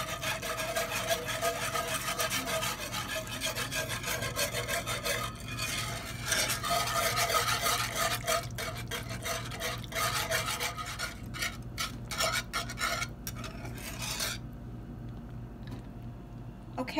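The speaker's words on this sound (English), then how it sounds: "you're just going to keep whisking until this gets thicker" Sauce for homemade scalloped potatoes with bacon being whisked until it thickens, heard as continuous close scraping and swishing in a pan that turns choppier and fades toward the end.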